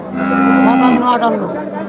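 A heifer moos once in a long, drawn-out, loud and close call at the Ratankandi cattle market in Sirajganj, with faint market murmur behind it.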